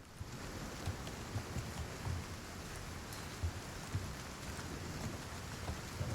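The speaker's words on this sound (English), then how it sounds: "I hear the rain." Rain in the video game Resident Evil 4 Remake, a soft continuous patter with scattered heavier drops and faint low rumbles, steady and moderately distant, with no talking.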